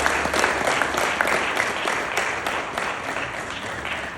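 An audience at a government tax event with Governor Sanwo-Olu claps in sustained, dense applause that continues steadily and tapers slightly toward the end.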